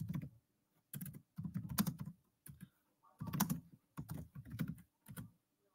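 Computer keyboard typing in bursts of quick keystrokes with short pauses between them, close and fairly quiet, with no voice over it.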